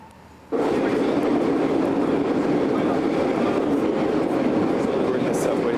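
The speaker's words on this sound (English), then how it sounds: "We're in the subway train." A Prague subway train ride starts abruptly into a loud, steady rumbling roar of the moving metro car, with faint rattling over the tracks and a voice talking beneath it.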